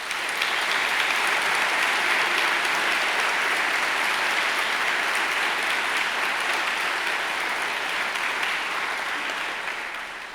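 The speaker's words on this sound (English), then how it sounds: "I would ask you now to take the opportunity to show them your appreciation with a round of applause" Sustained applause from a graduation ceremony audience at Monash University in Melbourne, a dense, steady roar of clapping holding loud and even for about ten seconds before easing slightly at the end.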